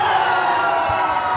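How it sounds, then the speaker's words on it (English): A live crowd cheers and whoops in a continuous, loud roar that holds steady for the whole moment, with faint voices mixed in. "The crowd loves it."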